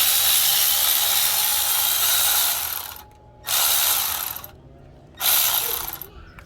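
An 8mm bolt on the glow plug harness of a 2008 Isuzu NPR is undone with a ratchet, heard as sustained close ratcheting bursts broken by two short pauses, loud and with no speech.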